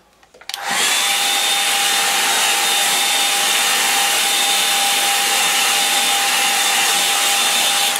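A hair dryer blows steadily on a watercolour painting of a Suffolk farm, switching on after half a second and then running loud and close with a constant whine until the end.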